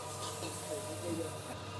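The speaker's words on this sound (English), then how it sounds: "In with those prawns, so lots and lots of chili, lots of prawns, a little bit of water, just create a bit of steam." Prawns and heaps of chili hit a wok with a splash of water at a Bangkok noodle stall, giving off a steady, fairly quiet steam hiss that runs the whole time under faint background bustle.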